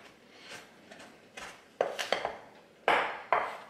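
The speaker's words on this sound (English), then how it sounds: "And I'm just going to mix that in." A spoon or whisk clinks and scrapes against a bowl while vanilla extract is mixed into cookie batter, with sporadic sharp taps that grow louder toward the end and no talk.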